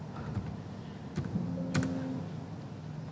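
Soft, irregular clicking of keys being typed on a computer keyboard, close and quiet, with a faint low hum in the background and no talking.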